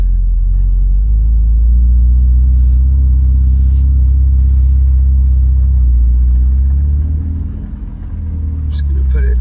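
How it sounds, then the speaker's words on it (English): A Ferrari 488 Pista Spider idles and creeps as it is turned around, a deep steady engine rumble close by with a slight dip in level near the end. "I'm gonna turn the car around."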